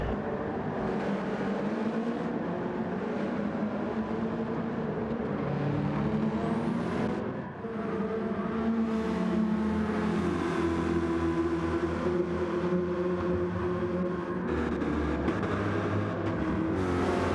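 Gr. 4 race cars at Laguna Seca in a racing video game, a continuous, fairly loud engine roar that rises and shifts in pitch as the cars pass, with no clear break.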